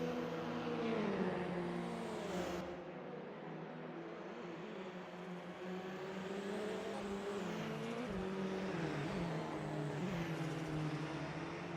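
Race cars in the Phantom Autos racing game roar around Silverstone at dusk, several engines droning and shifting pitch together in a steady, loud, continuous pack with cars sweeping past throughout.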